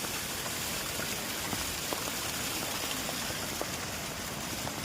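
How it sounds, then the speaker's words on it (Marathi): A small stream running down from a hillside by the road to a temple, a steady close rush and patter of water that is broadband and unbroken throughout. "डोंगरातनं मस्त पाणी येत आहे इकडे।"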